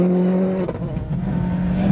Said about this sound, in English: We're flat in sixth in Ian Greer's Corolla. That's at least 120 miles an hour.